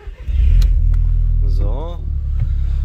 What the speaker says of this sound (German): also erst Motor an, ne?